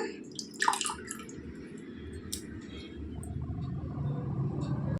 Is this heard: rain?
no